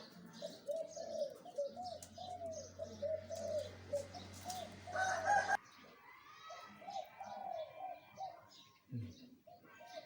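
A bird calls from a cage hung on a coconut tree in front of a house, giving repeated faint cooing notes in a quiet outdoor setting while someone speaks over them.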